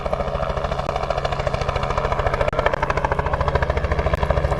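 Loud, rapid thudding of helicopter rotor blades close overhead during an elephant rescue in Balule Reserve, Greater Kruger, a steady chopping pulse with engine whine underneath.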